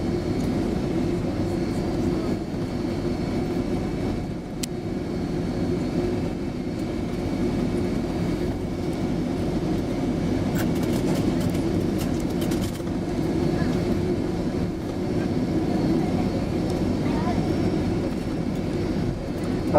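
A steady, loud roar of jet engines and air rushing past fills the cabin of a Qantas Boeing 767-300ER landing at Sydney, a continuous low rumble with faint clunks and rattles over it.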